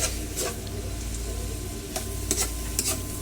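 Tofu sisig with calamansi, long chilies and bird's eye chilies in a pan, giving a continuous sizzle with a few brief scraping stirs.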